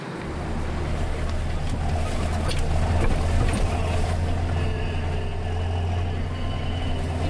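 A tractor engine drives along a road in Iceland, a steady, loud, close low rumble that holds without a break from start to end, with no talk over it.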